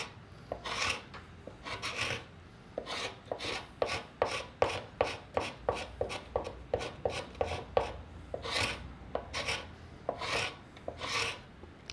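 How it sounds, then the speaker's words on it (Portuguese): A wood chisel, flat side down, is drawn along the grain across a carving, making a long series of close, rhythmic rasping scrapes of steady loudness with no talk. "Então eu vou pegar o lado reto do formão, vou encostar aqui e vou puxá-lo nesse sentido."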